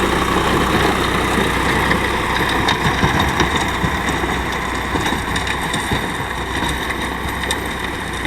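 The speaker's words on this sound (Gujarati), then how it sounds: "અશ્વશક્તિનું રોટાવેટર છે ને નામનું પણ લોડ નથી લેતું" A Swaraj 742 XT tractor runs a 6-foot Ashvshakti rotavator, its diesel engine giving a loud, steady, close drone with a low rumble and the chatter of the tilling blades throughout.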